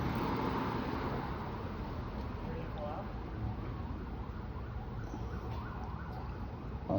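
A siren wails faintly in the distance, its pitch sweeping up and down repeatedly beneath a steady wash of background noise.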